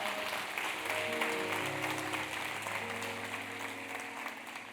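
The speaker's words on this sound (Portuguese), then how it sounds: "Aplauda ao Senhor." Church congregation applauding during a Portuguese-language service, a steady wash of clapping under sustained organ or keyboard tones that play throughout.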